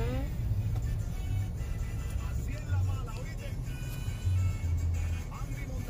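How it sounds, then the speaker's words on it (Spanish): Steady low rumble of cars in slow road traffic near a beach on the Fourth of July, continuous engine noise with a few louder swells as vehicles pass close by, no talk. "el tráfico sigue"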